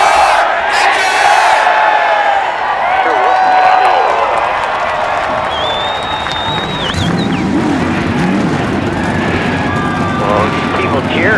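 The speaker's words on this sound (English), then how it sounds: "Well, people cheering there." Crowd cheering at a NASCAR race in Alabama, a loud, dense roar of shouting, whooping and clapping from a big grandstand, with voices calling out through the swell.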